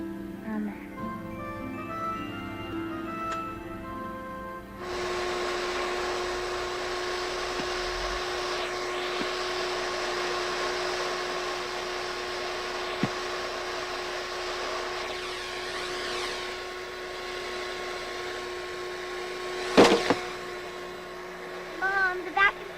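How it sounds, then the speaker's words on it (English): A household vacuum cleaner starts up after a few seconds and runs with a steady whining roar, mid-distance, with brief clatter and a voice near the end. "Mom, the vacuum cleaner is not picking up."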